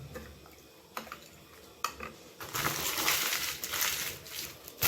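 Salt being stirred into water in a bowl for quick puff pastry dough: a few light clinks, then a steady close sloshing and scraping swirl with no talking.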